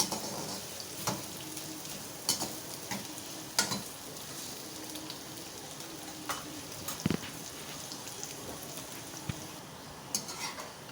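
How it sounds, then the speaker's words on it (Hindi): Chopped onions fry in oil in a pan for an okra dish, giving a steady soft sizzle with frequent clicks and scrapes of stirring, close but fairly quiet, with no talking. "अब इसको हम इसमें फ्राई कर लेंगे। जब वो सॉफ़्ट हो जाए, हम इसको इतना फ्राई करेंगे कि ये सॉफ़्ट हो जाए"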